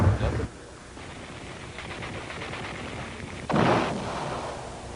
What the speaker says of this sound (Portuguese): E a artilharia da OLP respondia ao fogo dos canhões de